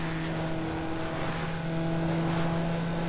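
A car engine in the racing game NFS Underground holds a steady loud drone, with its pitch nearly constant as the car cruises in fifth gear and the throttle stays closed.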